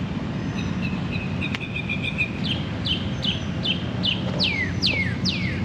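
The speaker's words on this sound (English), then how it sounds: "Listen to that bird just singing up there." A bird sings a series of bright, repeated descending chirps above steady low background noise, growing slightly more prominent toward the end.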